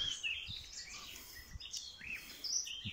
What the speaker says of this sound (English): The birds are pretty excited, huh?